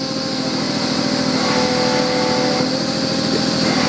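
An air compressor runs in a machinery shop, a loud continuous mechanical drone with a steady hum and no pauses.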